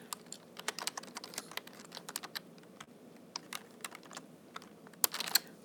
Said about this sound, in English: Typing on these things.